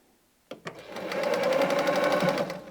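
A domestic sewing machine stitches a seam on fabric for a patchwork drawstring bag, starting with a couple of sharp clicks and then running as a steady, fast, close whirring hum for about two seconds, with no talking.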